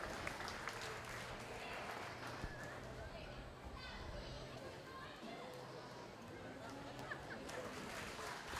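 Applause at a county fair 4-H and FFA market steer show ring, clapping under an announcer's voice and crowd chatter, with children's voices and scattered movement around the arena.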